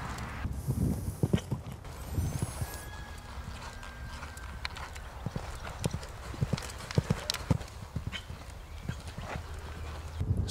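Hooves of a horse jumping an equestrian course thud and clip-clop in a steady rhythm of sharp impacts, heard from a distance across open ground with faint background noise.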